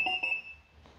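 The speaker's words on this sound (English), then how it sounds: "Now the scooter is beeping." A short electronic beep from a Segway Ninebot electric scooter, a high steady tone with a brief double chirp at the start, fading quickly into quiet background.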